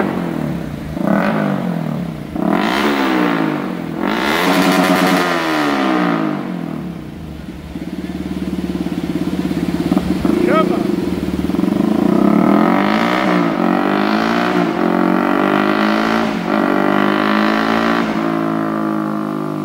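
A Yamaha R15 V3 motorcycle with a loud aftermarket exhaust revs repeatedly, its pitch rising and falling in sharp bursts, close and aggressive, with no talking.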